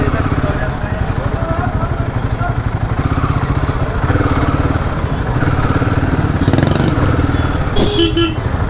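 Royal Enfield Himalayan motorcycle crawling in first gear through a busy Indian bazaar, a steady close engine thump throughout with traffic noise and a brief horn near the end.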